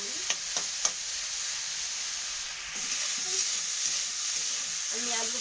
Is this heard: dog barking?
no